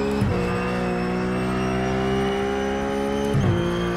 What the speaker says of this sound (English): A nice long train of about 4 cars.